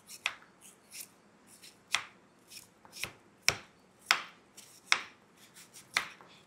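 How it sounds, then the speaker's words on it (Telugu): Knife chopping raw green mango into small pieces on a board, with sharp crisp cuts landing in an irregular rhythm of about a dozen strokes, close up and alone with no talk. "ముందు ఇవైతే చిన్న చిన్న ముక్కల కింద కట్ చేసేసుకుందాం"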